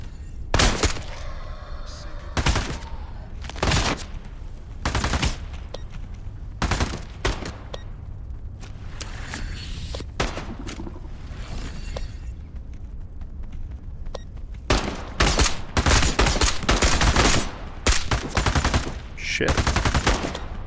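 Gunfire in the VR game Into the Radius 2 in a ghost town setting, loud sharp shots in scattered single cracks and quick bursts, denser near the end, with faint background ambience between.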